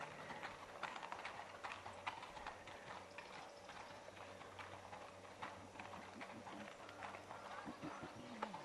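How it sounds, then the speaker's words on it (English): Rhythmic clip-clop of horses' hooves on hard ground, continuous and moderately distant, with faint murmuring in the background. "all you hear is the footsteps of horses once again"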